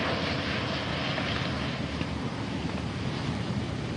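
Navy planes fly around an airfield in a 1940 film recording, a steady broad engine roar blended with wind-like hiss that holds constant throughout with no pauses.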